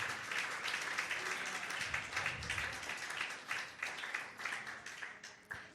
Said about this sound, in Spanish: Denle un aplauso a ese Rey que es grande y poderoso.